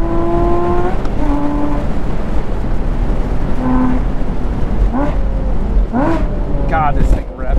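A sports car revs hard on a race track on cold tires, its engine note climbing in repeated rising sweeps through the gears. The engine is loud and close, and a voice speaks briefly over it.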